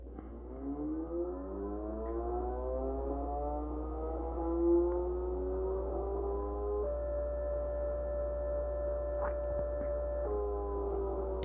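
A stepper motor driven by an Arduino and a DM542 driver whines with a steady tone that first glides upward in pitch and then holds a constant pitch, alone over a low steady hum.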